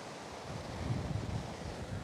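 Ocean surf breaking and rolling on a shoreline where high, violent waves have eroded sand and concrete barriers, a steady broad roar mixed with wind buffeting the microphone.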